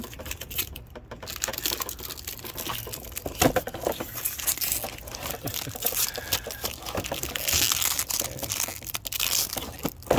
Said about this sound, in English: just unwrapping stuff